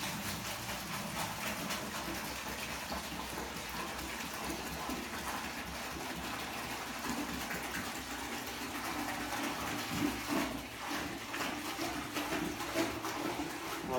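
Dark, muddy river water from the Jordan River being poured into a filtration kit, a continuous rushing, gushing pour with a fluctuating splash that runs throughout.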